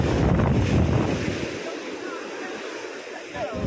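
Strong sea current and surf rush continuously around a fishing boat hauling a net catch of anchovies, a loud broad wash with heavy wind buffeting at the start that eases slightly later.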